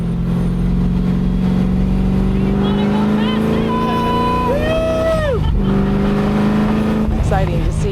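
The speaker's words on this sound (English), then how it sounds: "watch a car go around the track with us, meet Mr. Jarbo, just have a little fun." Mustang restomod race car lapping a track, its engine droning loud and steady, then revving up and down through gear changes, close by throughout with voices faintly underneath.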